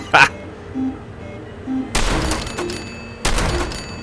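Shotgun blasts with explosive rounds in Fallout, Nuka Town: a short crack near the start, then two heavy booming bursts with long crumbling tails, separated by a low hum.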